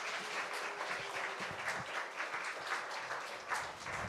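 A church congregation applauds together during a service, a steady broadband wash of clapping hands held at an even level throughout without speech.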